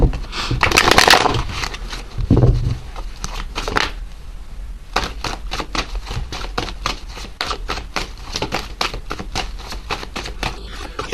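Rapid riffling and shuffling of a tarot card deck, a dense flurry of soft papery snaps, then steady repeated card slaps continuing at an even pace.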